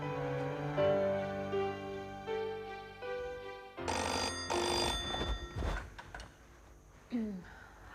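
A telephone rings with repeated electronic tones over a soft musical background, followed by a door-like clatter and movement sounds.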